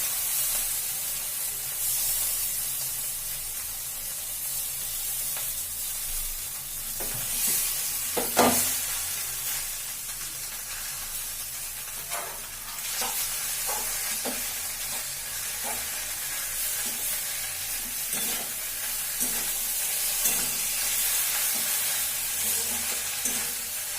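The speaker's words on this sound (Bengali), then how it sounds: "জল ঝরিয়ে রাখা পাস্তাগুলো দিয়ে দিলাম।" Drained pasta fries in a pan with a loud, continuous sizzle and hiss, while a utensil stirs and scrapes it at irregular intervals, close up with no talking.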